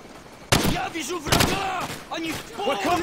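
Bursts of gunfire in Call of Duty 4: Modern Warfare break out loudly, with sharp repeated shots and rattling automatic fire. Shouting voices sit over the firing.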